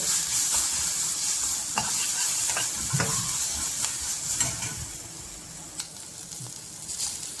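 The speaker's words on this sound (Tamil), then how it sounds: "மஞ்சத்தூள் போட்டுட்டு நல்லா கிளறி வச்சுருங்க" Food sizzles steadily in a hot pan with turmeric and green chilies added while a utensil scrapes and stirs through it in irregular strokes, close up.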